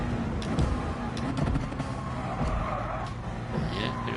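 Subaru WRX car driving in a PS4 racing game, a steady low engine drone with faint tire noise throughout, fairly quiet and constant.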